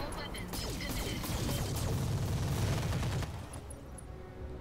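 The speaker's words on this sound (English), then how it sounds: "Going to fire everything." Heavy barrage of mech weapons fire in the video game Roguetech, a dense, loud burst of overlapping gunfire and impacts for about three seconds, then a quieter rumbling tail with faint high tones.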